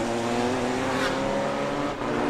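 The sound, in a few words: Honda GT race car accelerating on circuit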